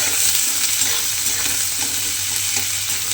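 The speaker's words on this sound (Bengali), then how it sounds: "পেঁয়াজটা প্রথমে তেলের মধ্যে দিয়ে দিতে হবে, দিয়ে পেঁয়াজটাকে একটু হালকা করে ভেজে নেব।" Onion frying lightly in oil, a brief, even sizzle close by with faint stirring sounds and no voices.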